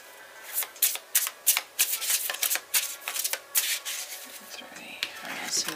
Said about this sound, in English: Okay, we'll do 3 shuffles